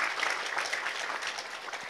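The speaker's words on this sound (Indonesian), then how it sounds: "Sepin wali tepuk tangan dulu kangge pemudanya" Audience at a religious gathering (pengajian) in Sidomukti, Cilacap claps for the youth organizers, a brief, dense burst of applause at moderate distance.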